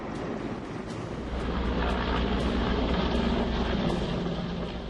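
A firefighting helicopter carrying a water bucket flies over smouldering forest near the Alaknanda river reservoir in Uttarakhand, a steady low rotor and engine drone at a moderate distance that swells slightly partway through.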